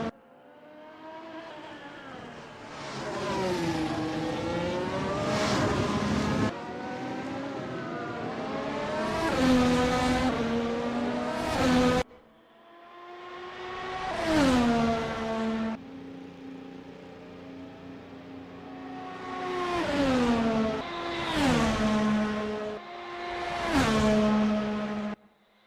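Race cars on the start-finish straight at Grand Valley Speedway in a racing video game drone past in long, rising engine notes with sweeping pitch bends, several loud passes one after another and no talk.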